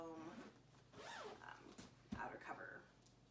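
A hidden zipper on the foam wedge cover of a Figgy baby lounger is pulled in a few quick rasping strokes, close and soft, with a hushed voice partly over it.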